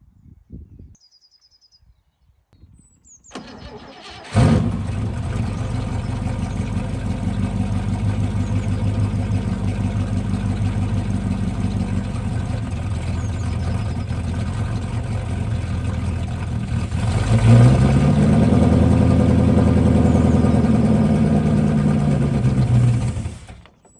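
An abandoned prototype supercar, fresh fuel just added to its nearly empty tank, cranks after a few seconds of near silence, then catches and settles into a steady idle that swells louder near the end.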